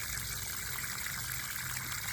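Water-soluble fertilizer solution poured from a gallon container into a container garden, making a steady, close, even rushing trickle that fills the whole moment with no talk.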